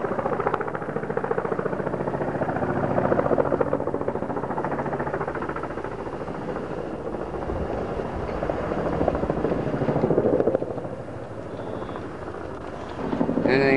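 A helicopter flies by during a February 1998 tornado outbreak in Kissimmee, its rotor chopping in a steady loud thump that swells and eases over about fourteen seconds, with faint voices underneath.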